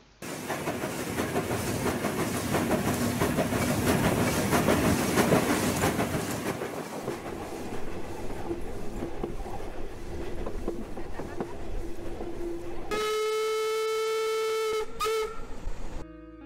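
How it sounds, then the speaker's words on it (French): Heritage railway train running from Le Crotoy toward Noyelles, France: steady loud rolling rumble and clatter of wheels on track, then a long sustained whistle blast near the end, with no talk. "le train venant du Crotoy poursuit sa route vers Noyelles"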